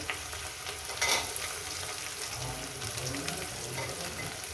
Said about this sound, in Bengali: এবার এটাকে আমি সুন্দর করে ভেজে নেব